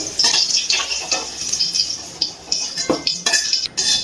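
Fried bitter gourd is lifted out of hot oil with a metal utensil, bringing bright clinks and scrapes against the cooking pan in quick, uneven bursts, close and fairly loud.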